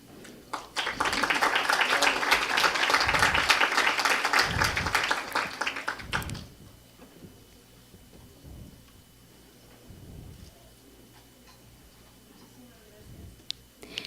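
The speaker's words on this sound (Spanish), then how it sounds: "Un aplauso muy fuerte para ella." A burst of loud applause at the opening ceremony of an Amazon summit on journalism and climate change, rising after a moment and holding for about five seconds before stopping sharply, followed by quiet room noise and low sounds.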